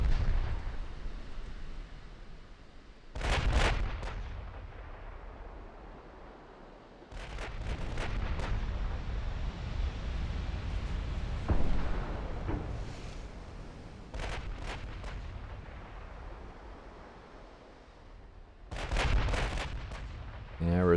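Deep naval gun salvos from warships in the battleship strategy game Ultimate Admiral Dreadnoughts, several heavy booming blasts with rumbling tails rolling across a noisy battle background.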